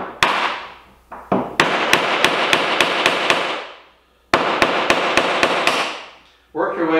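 Sharp metallic hammer blows on a screwdriver prying nails from a wine barrel, two runs of about seven evenly spaced loud strikes with a brief gap between, a few lighter taps before.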